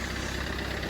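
A 2008 Fiat 500 in Abarth replica trim idles rough and rattly, with a suspected injector fault: a constant close-up engine drone with a faint, even pulsing rattle and no voices.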